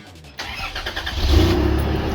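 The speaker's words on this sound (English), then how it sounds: "now we'll start it up and see if it's any quieter" After a brief quiet moment, an old car engine with half its exhaust fitted cranks and catches, settling into a loud, slightly rough, rattly idle nearby.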